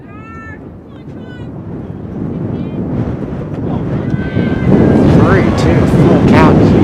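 Strong, steady gusts of wind roar across the microphone at an outdoor high school softball game, swelling louder toward the end, with faint higher tones cutting through the rumble.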